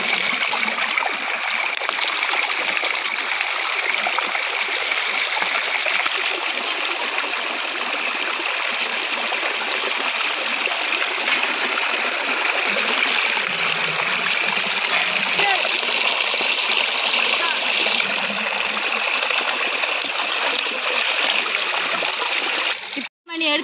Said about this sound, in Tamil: நாம காடைய மஞ்சள் போட்டு நல்லா கழுவி எடுத்துக்கலாம்.